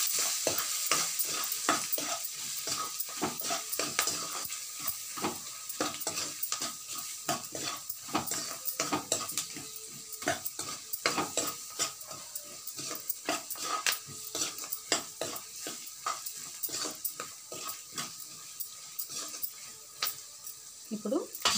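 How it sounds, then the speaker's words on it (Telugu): Onion chutney ingredients with salt and turmeric are stirred in a pan, a spoon scraping and clinking rapidly and continuously against the metal over a faint sizzle, close up and without speech. "ఒకసారి కలుపుకున్నామండి వీటిని బాగా"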